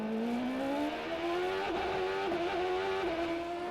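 A 2003 Champ Car with a turbocharged Ford engine spins its wheels at Montreal, its loud engine note climbing steadily in pitch with brief wavers, close and continuous, with no talking.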